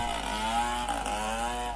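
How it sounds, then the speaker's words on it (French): Municipal workers' chainsaw cutting branches off a fallen tree that landed on a road and broke a cathedral fence in Gabon: a loud, steady buzzing drone held close for under two seconds. "À l'aide d'une tronçonneuse, les agents municipaux découpent les branches de l'arbre"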